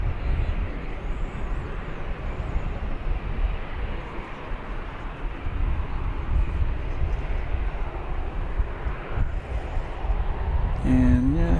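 An airliner takes off from runway 18 left at DFW Airport, its jet engines producing a steady, broad roar at a moderate distance that persists throughout.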